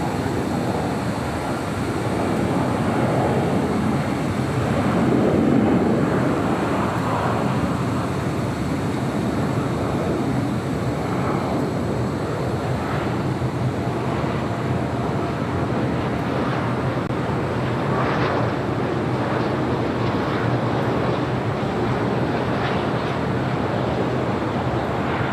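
An Air Canada jet rolls for takeoff on runway 25 right at LAX, a steady, broad engine roar that swells slightly and then holds for the whole stretch, with no talk.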